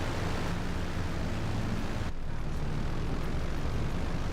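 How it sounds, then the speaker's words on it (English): An airplane in the Grand Theft Auto V video game roars with a steady engine drone as it flies low and climbs, loud and continuous with no talking. "I pull the plane off the ground, but not pull completely up, and then I go at a good angle up"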